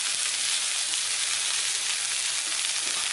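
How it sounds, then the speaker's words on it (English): Filet mignon steaks topped with butter sizzle on a Blackstone griddle. The frying hiss is steady and bright, close by and unbroken. "we're going to put some butter on top of them"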